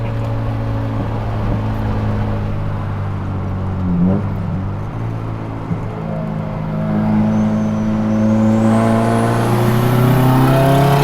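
A big-turbo Nissan S15 Silvia with a 2.35-litre SR23 stroker four-cylinder engine, heard from on board while driving: a loud, steady drone that swells as revs climb toward the end, with no talking.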